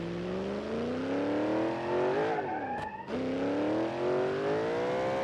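A car engine in the video game BeamNG.drive revs up in long rising sweeps, dips briefly with a squeal, then climbs again, loud and close with no talk.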